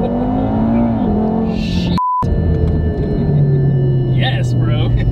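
An Audi TTRS with a Unitronic tune accelerates hard after a launch, its engine note climbing and dropping through gear changes, with a short electronic beep partway through and faint voices over the roaring motor.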